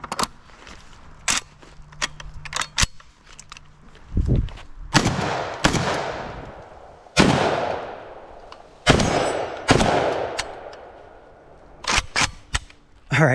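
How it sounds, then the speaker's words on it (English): A K-USA Komrad 12 shotgun fires buckshot rounds outdoors, loud close blasts spaced irregularly a couple of seconds apart, each with a ringing tail, interspersed with clicks and clanks of handling. "Last five rounds of the day. Buckshot."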